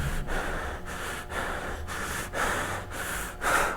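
Forceful, repeated exhalations during a breathing exercise, about seven strong breathy bursts in a steady rhythm, close and fairly loud, with no talking.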